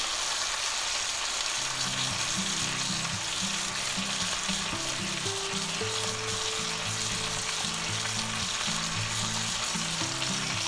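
Chuck roast searing with butter in a hot pan gives a steady, close, loud sizzle and crackle that runs the whole time, with no talking over it.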